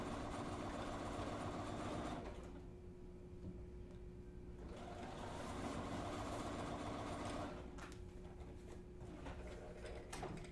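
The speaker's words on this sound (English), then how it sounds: "And I'm sewing right down the middle of that 1/4 of an inch." A sewing machine stitches a quarter-inch seam in fabric, running with a rhythmic mechanical whir that slows and pauses briefly, then picks up again, close and alone.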